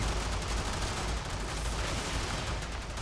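Gunfire in Warframe forms a dense, unbroken wash of rapid shots and impacts, loud and sustained with no pauses.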